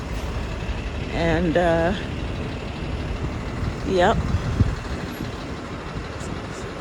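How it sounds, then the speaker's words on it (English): A moving truck passing on a street, its broad engine rumble running steadily throughout and swelling slightly, while a person speaks briefly over it. "Gonna hear a little noise because this is a moving truck."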